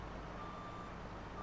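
A farm vehicle reverses into a parking spot on a small farm, its steady reversing beeper tone sounding faintly and continuously over a low engine rumble, with no talking.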